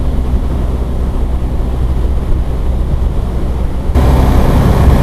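A BMW GSA motorcycle riding through twisty roads, a loud steady engine drone mixed with heavy wind rush that swells louder near the end as it accelerates, with no talk.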